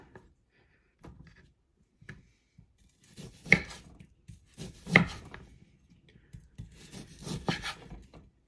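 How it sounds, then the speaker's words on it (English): Knife chopping ribeye steak into small pieces on a board for burgers, a series of sharp close cuts, sparse at first, then clustering into louder bursts of rapid chops. "We're gonna chop it into nice little pieces, and then we're gonna further chop it."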